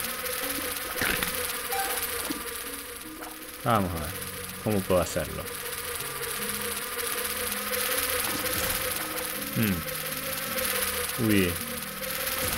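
Flies buzz in The Binding of Isaac, a steady insect drone under background game music, with a few short rising chirps cutting through and someone briefly speaking in Spanish.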